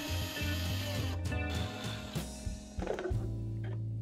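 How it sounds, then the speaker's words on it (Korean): Screws being undone to take apart a dice tower, with a close power driver whirring in several short bursts that stop and start, then a final longer run. "일단 나사를 전부 풀어 분해해줍니다."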